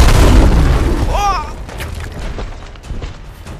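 Gunfire from a shooting fight in the video game Fallout 4 opens with a loud boom that fades into scattered, quieter shots and impacts, while a voice speaks over it.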